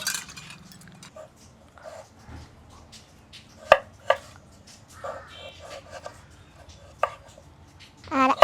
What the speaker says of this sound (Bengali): আলু আমি এইভাবে করে কেটে নেব একটু ছোট ছোট করে